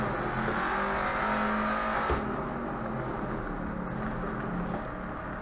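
Shelby Cobra 427 S/C engine in a Nurburgring racing video game, a steady loud roar held at near-constant revs throughout with a brief dip and a gear change midway, no voices.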